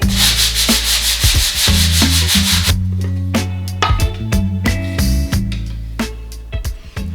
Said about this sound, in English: just gotta sand this one down one more time